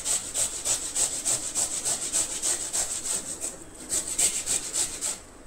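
Cucumber rubbed against a hand grater for Goan tavsoli, a steamed rawa cake, in a steady rhythmic run of close, rasping strokes that stop briefly, then pick up again.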